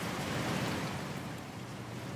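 Rain in the video game CafeMart Simulator, an even, continuous hiss of rainfall at moderate loudness with no voices over it.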